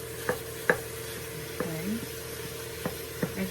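Ground turkey sizzles in a pan while a utensil cuts and breaks it apart, with several sharp scraping taps at irregular intervals over a steady low frying hiss, fairly quiet.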